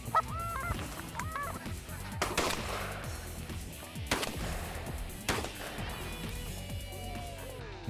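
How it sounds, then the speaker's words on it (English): Canada geese honking in a British Columbia hunting setting, repeated calls over a busy background with several sharp gunshot-like bangs; no one speaks. "Nothing like watching a flock of Canada geese and watch them as they spill air, as they come down"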